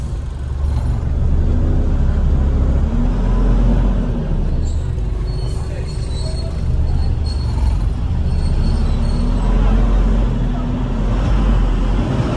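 A car engine left running while parked with the radiator overheated, a loud steady low rumble throughout, with traffic noise around and no voices.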